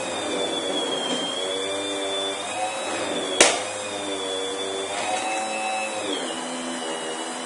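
A small DC motor whines steadily while its shaft is held by hand, with one sharp click partway through; its pitch sags and recovers as it labors under load.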